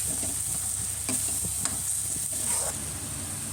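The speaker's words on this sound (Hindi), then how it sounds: "अब मैं इसमें डाल रही हूँ टमाटर की प्यूरी।" Tomato puree cooks with frying spices in a pan, giving a steady loud sizzle and hiss, with soft scrapes of stirring scattered throughout.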